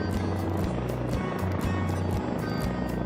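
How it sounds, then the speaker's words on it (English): Helicopter flying overhead while carrying cows to a pasture, a loud steady rotor thrum with rhythmic low beating and broadband engine roar throughout, no voices. "Some lucky cows even get the honor of taking flight by helicopter"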